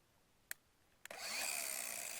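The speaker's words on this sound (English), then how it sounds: "I'm gonna turn on my grinder." A power grinder used for shaping garden topiary is switched on after two sharp clicks, then runs with a steady, loud, high-pitched whine that holds to the end.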